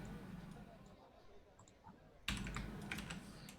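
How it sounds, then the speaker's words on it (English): Soft, rapid keystrokes on a computer keyboard, quiet clicking under a faint background hum, then a brighter, busier burst of typing in the second half. "You're still typing"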